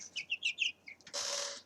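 Brahma chickens, a large breed, give short clucks and chirps in a quick close run, followed by a brief burst of broader squawking or flapping.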